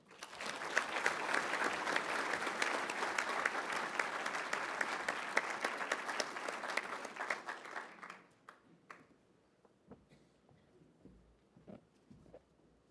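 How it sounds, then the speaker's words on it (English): A conference audience at a nuclear industry plenary meeting claps after a speech, dense sustained applause for about eight seconds that fades into a few scattered claps. "Let's give our speakers one more round of applause"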